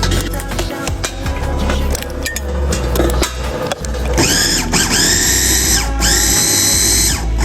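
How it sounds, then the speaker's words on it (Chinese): Blender pureeing steamed carrots into a mash, a loud continuous motor whir with shifting pitch and brief sweeping surges as the blades work through the soft carrots. "我们拿出来给它打成泥。"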